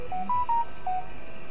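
A phone chimes a short run of four clear electronic tones in quick succession, fairly quiet and sitting alone over faint background hum.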